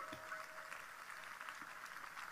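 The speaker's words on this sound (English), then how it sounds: "let's give all those people a mighty clap offering" A church congregation gives a clap offering at a Crossover service, a fairly faint, even patter of applause in a large room, with a brief tonal sound early on.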